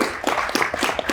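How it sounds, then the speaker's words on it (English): Short burst of clapping from a small crowd at a football team announcement press conference in the Dover Sportsplex, a steady patter of hands at moderate level with no talk over it. "Can we give them a little round of applause?"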